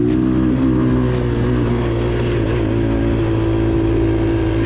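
A cheap, heavy 250cc motorcycle revs hard in a loud, close engine roar while the rider tries for a second gear wheelie, holding a steady buzzing drone throughout.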